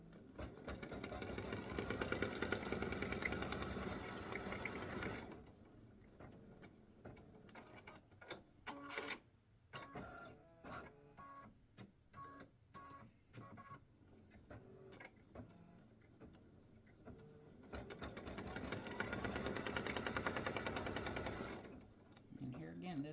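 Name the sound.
embroidery machine stitching golf clubs design on card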